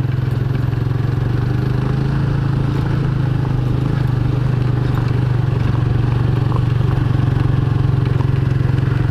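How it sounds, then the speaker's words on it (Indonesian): A WMOTO Extreme 150i scooter engine pulls steadily in first gear while riding off-road on a gravel track, a loud, continuous, close mid-pitched drone with rattling clatter throughout and no talking. "Mau gear satu wheelie sekejap lagi ni"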